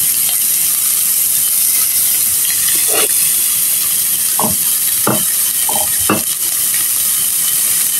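Onion and garlic sizzle together in oil in a frying pan, a loud constant hiss close up, with a few brief stirring knocks and scrapes partway through.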